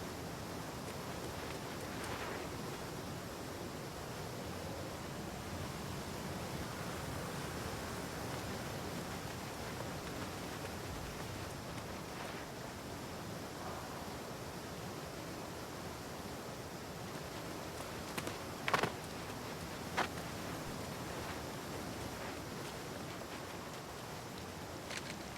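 A river waterfall in New World's Brightwood roars steadily as a dense, even wash of falling water, with a few faint splashes and knocks near the end.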